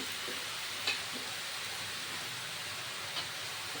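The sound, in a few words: cabbage added to a hot pan, sizzling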